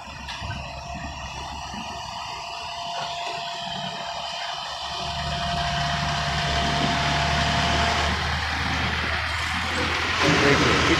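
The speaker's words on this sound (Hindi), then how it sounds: "देखिए कितना बेहतरीन तरीके से वो कितना स्पीड में चला रहे हैं गाड़ी को" A truck pulling a trailer drives along at speed, its engine producing a steady low rumble with broadband road and wind noise that swells slightly louder after the midpoint, continuous throughout with no talk.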